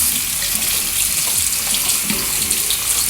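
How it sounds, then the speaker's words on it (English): A Petkit dog water bottle filter is rinsed under a running tap, with a steady, loud, close stream of water splashing continuously and no talking. "you basically want to rinse the filter right here for 2 minutes"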